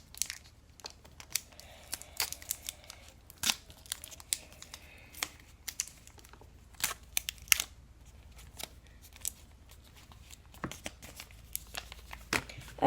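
Tape is pulled and wrapped around a paper pistol with scattered crinkling, tearing and sticky crackles, quiet and close with irregular bursts.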